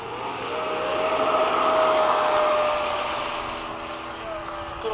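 Several FMS 80mm Hawk model jets take off together in formation, a steady ducted-fan whine that swells to a peak around mid-clip and then eases as they climb away, with no talk heard.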